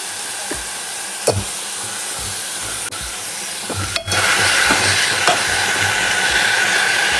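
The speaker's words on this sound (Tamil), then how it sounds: "ஒரு ரெண்டு நிமிஷம் தக்காளி நல்லா வதங்கிட்டோம்" Tomatoes seasoned with salt and turmeric sauté in a pan, giving a continuous sizzling hiss with scattered stirring clicks and scrapes; the sizzle swells louder partway through and stays strong, with no one speaking.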